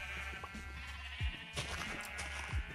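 Minecraft sheep bleat faintly behind a steady layer of background music and game noise, with a few soft low thumps scattered through.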